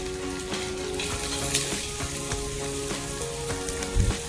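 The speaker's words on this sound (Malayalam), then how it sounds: "ഇനി രണ്ട് സവാള അരിഞ്ഞ് വെച്ചിട്ടുണ്ട് അതും കൂടി ഇതിലേക്ക് ഇട്ട് കൊടുത്ത് ഒന്ന് മൂപ്പിക്കാം" Chopped onions and garlic sautéing in hot oil in a pan for a Kerala bitter gourd theeyal: a loud, steady sizzle close up, broken by a few soft clunks of stirring.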